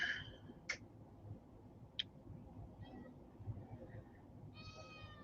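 A house cat meows a few times near a room where a tablecloth is spread, short faint calls spaced apart over a quiet background hum, with no talking.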